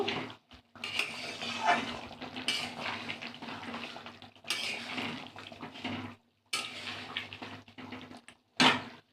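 Chicken curry bubbling in a pot after a paste of garam masala, cardamom, cinnamon and cloves is stirred in; a steady wet simmer with occasional clinks of utensil on pot and brief quiet gaps, no talking.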